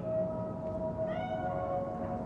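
Cat meowing in the video game Cyberpunk 2077, a couple of drawn-out, wavering mewls standing out over a steady ambient hum.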